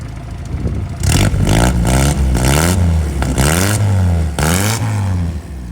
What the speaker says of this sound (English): Rev that up one more time for me